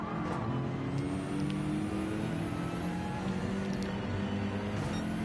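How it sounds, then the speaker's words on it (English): An onboard race car in a racing video game holds a loud, continuous engine drone with shifting revs as it brakes and accelerates through a chicane, heard close up with no voices. "Hard onto the brakes through the chicane."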